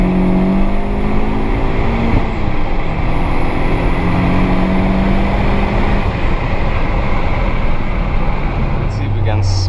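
A VW Golf Mk4 GTI engine pulls hard in second gear, a loud, sustained drone with pitch climbing and dropping through the revs, heard close throughout.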